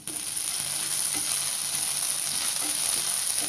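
Onions with salt frying in mustard oil, a steady close sizzle that lasts throughout, with a few faint stirring clicks.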